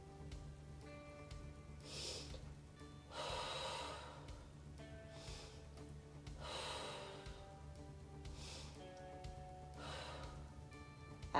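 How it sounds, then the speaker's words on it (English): Slow, deep breathing in a pelvic floor exercise session: several soft cycles of air drawn in through the nose and pushed out through the mouth, a quiet rhythmic whoosh every couple of seconds over a steady low hum. "We're going to start by doing some deep breathing."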